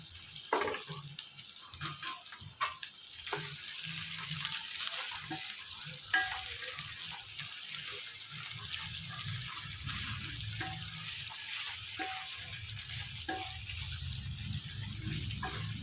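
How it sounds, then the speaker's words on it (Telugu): Chicken pieces sizzle steadily in hot oil, a continuous close frying hiss with occasional stirring clatters and scrapes of a spoon against the pan, no voices over it. "ఇప్పుడు ఈ ముక్కలు అనేవి ఆయిల్లో ఫ్రై అవ్వాలన్నమాట."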